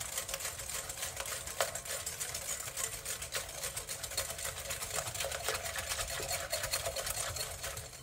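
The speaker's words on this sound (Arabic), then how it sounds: "ونطرب البيض بالسكر" An electric mixer whirs steadily at close range as it beats eggs with sugar for a semolina cake, a constant buzzing drone with faint rattles from the bowl.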